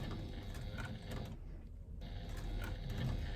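A sewing machine runs steadily, top stitching around a faux leather wrist strap with a 1/8 inch seam allowance, its needle mechanism giving a continuous close whirring and ticking rhythm.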